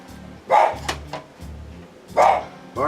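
A dog barks twice, a few seconds apart, fairly close, over a low steady kitchen hum while steak and onions are cooked at home.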